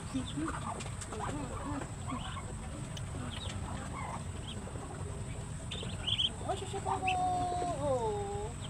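Faint high peeping from young chicks over a steady background hiss, with a few clearer chirps near the end.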